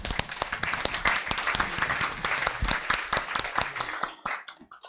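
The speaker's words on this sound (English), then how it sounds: "please give a round of applause to our guest speaker and to all of us" An audience applauds a visiting guest speaker at a university lecture: a round of distinct claps from a modest crowd, steady, then thinning and tapering off toward the end.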